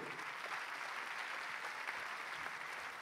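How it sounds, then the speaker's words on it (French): A festival audience at the opening ceremony of the 10th Festival du film francophone d'Angoulême in 2017 applauds the jury members with a dense, even wash of clapping throughout. "Applaudissez-les."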